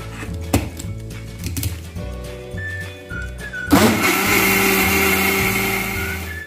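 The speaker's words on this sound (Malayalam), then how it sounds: "ഇതിലേക്ക് ബാക്കി പാലും കൂടെ ഒഴിച്ച് അടിച്ചെടുക്കാം" A kitchen mixer grinder whirs into a loud, steady blend of milk for a milkshake, after a few clunks and taps as the jar is handled, then runs continuously at close range.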